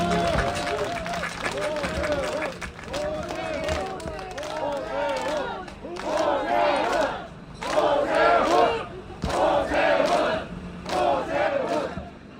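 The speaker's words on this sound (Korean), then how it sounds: "뜨거운 박수로 환영해 주시기 바랍니다" An outdoor crowd at a Seoul Forest campaign rally welcomes People Power Party candidate Oh Se-hoon with loud cheering and rhythmic chanting that surges in repeated waves, mixed with clapping.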